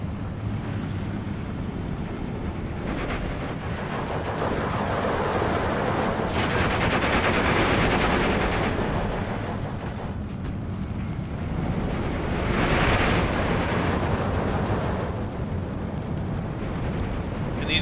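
Gunfire and mortar explosions from the World War II strategy game Steel Division 2, a dense, continuous rumble of shots and blasts with louder bursts swelling around the middle and toward the end, no voices.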